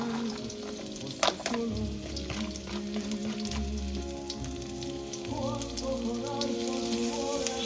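Diced shallots fry in oil in a pan or wok for risotto, making a steady crackling sizzle like light rain, with occasional stirring scrapes and one brief clank near the start.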